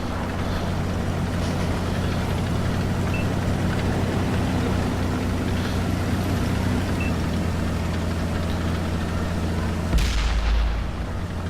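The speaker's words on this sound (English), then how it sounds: "with people firing in the air" A tank in World of Tanks rumbles steadily with a low engine drone, and a single loud cannon shot bursts out near the end before the rumble settles.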